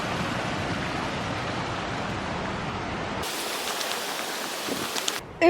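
Creek water flowing along a hiking trail, a steady broadband rush close by that suddenly thins out partway through, ending with a brief louder noise.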